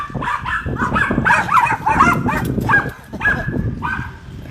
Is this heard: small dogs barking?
yes